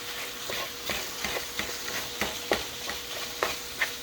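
Ground beef browning in a pan sizzles steadily while a utensil breaks it up, with regular scraping stirs and taps about twice a second over the constant frying hiss.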